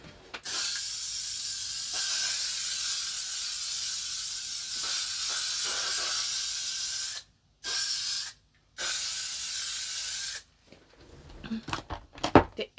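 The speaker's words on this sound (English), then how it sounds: "only hairspray I trust to set this fucker with" Hairspray hissing from an aerosol can onto a wig, long steady sprays broken by short pauses, then a few brief bursts and handling noises, close and fairly loud.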